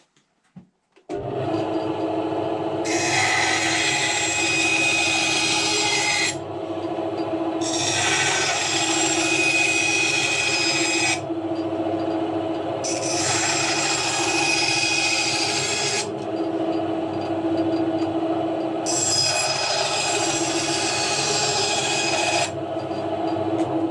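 A Titan TTB705BDS 80mm bandsaw hums steadily while chopping wooden squares, with four separate rasping cuts of several seconds each over the running motor, loud and close.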